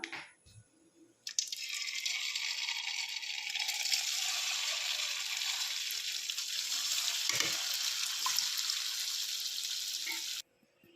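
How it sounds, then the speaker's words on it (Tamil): Rolled paneer balls drop into hot oil and deep fry with a loud, steady crackling sizzle that lasts almost the whole time. A few soft knocks and stirring sounds come first, and the fizz cuts off abruptly at the end. "இதே ஆயில்லையே நம்ம உருட்டி வச்சுருக்க பன்னீரை இதில் சேர்த்து பொறிச்சு எடுத்துக்கலாம்"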